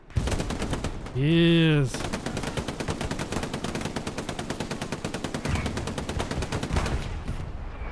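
Sustained machine gun fire in the World War II game Hell Let Loose, a dense, evenly spaced stream of shots running nearly the whole time, interrupted early by a brief rising whistle-like tone, with a commentator talking over it.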